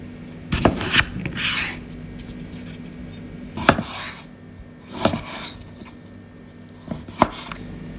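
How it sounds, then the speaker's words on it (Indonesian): A knife slices tomatoes on a board in a kitchen, several separate cuts and scrapes spaced out over a few seconds with quiet gaps between them. "sekarang iris tomatnya"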